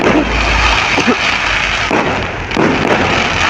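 Fireworks at an outdoor display burst in loud, dense crackles and booms, several sharp reports layered over a continuous roar.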